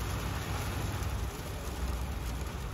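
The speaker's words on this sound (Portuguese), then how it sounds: "Esse barulhinho batendo. Tô vendo. Ó. É granizo." Hail falls with heavy rain outside a house, a dense, constant rattle of ice pellets hitting surfaces close by, loud and unbroken.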